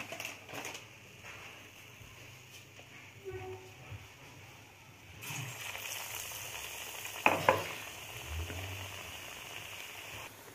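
Oil sizzling and crackling steadily as cut vada fry over a medium flame, with soft clinks and stirring sounds; a voice speaks faintly at times.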